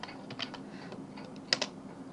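Computer keyboard keys tapped while coding Selenium browser commands in an editor, a few soft close clicks spread unevenly, faint with no voices.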